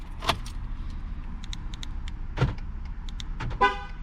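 Outdoors, a short electronic chirp and click of a Ford F-150 pickup truck locking, followed by faint ambient noise and a few distant tones.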